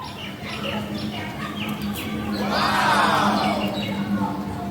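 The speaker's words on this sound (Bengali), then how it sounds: "এই দেখুন ফ্রেন্ডস এইটা হলো আমার ককটেলের পেয়ার" Two cockatiels, a giant-sized pair in a home aviary, give sweeping rising-and-falling calls with scattered chirps from other birds over a steady hum.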